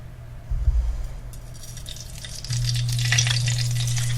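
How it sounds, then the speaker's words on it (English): Bacon grease and about 1.5 teaspoons of oil in a very hot pan, crackling and spitting steadily, with the sizzle swelling louder partway through. "This is a nice hot pan, so it's snapping a little bit"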